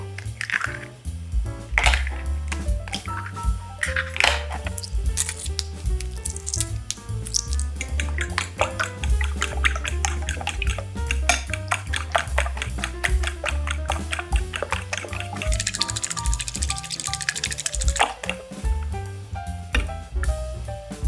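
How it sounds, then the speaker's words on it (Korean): Eggs are beaten in a bowl for steamed eggs, a long run of quick, wet, squishing whisk strokes, close and steady in rhythm, with a few louder clinks against the bowl. "계란을 먼저 풀어주세요."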